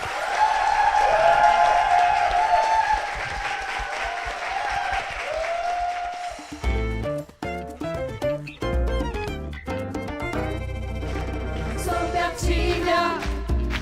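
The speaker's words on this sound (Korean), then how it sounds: "힘찬 축복의 박수 부탁드립니다" Church congregation giving loud applause for a teacher and the principal of a Christian school, a full burst of clapping with a few voices for about six seconds before music starts.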